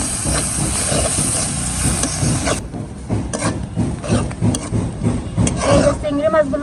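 Shrimp frying in oil while being stirred, with a loud close sizzle and hiss of oil and scraping strokes of a spatula against the pan, occasional voices faintly in the background.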